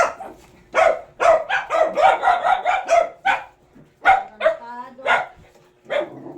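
Several dogs bark and yip in quick overlapping bursts, loud and close, with a whimpering note among them and people talking over the barking.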